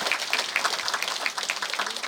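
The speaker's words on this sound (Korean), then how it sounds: "여러분 박수로 환영해 주시기 바랍니다" An audience at a Buddhist book-publication ceremony claps to welcome a guest: steady, fairly faint applause from a modest crowd, with no one talking.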